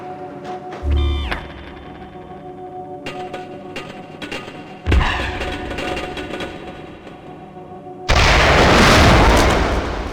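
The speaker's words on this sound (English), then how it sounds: "set the payload to cluster bomb and throw it at the next hologram target" Cluster bomb explosions in Gunman Chronicles, several booming blasts at irregular intervals, each a heavy low thump with crackle, ending in a long loud rumbling burst.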